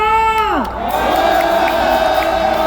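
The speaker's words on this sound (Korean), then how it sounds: "이 청년에게 뜨거운 함성!" A crowd of protesters at an outdoor rally raises a loud, sustained cheer and shout, with a descending whoop at the start, then a steady mass of voices holding on throughout.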